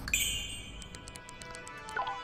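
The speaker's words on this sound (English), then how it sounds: "Oliver wakes up as the bell rings." In the game Leviathan: The Last Day of the Decade, a bell rings with a bright ringing tone and fades away, followed by soft, faint dings at a steady pace.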